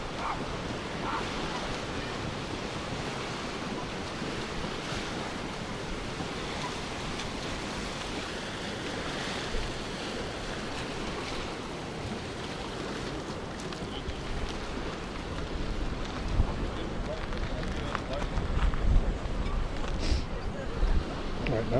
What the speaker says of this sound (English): this is actually the wind blowing us along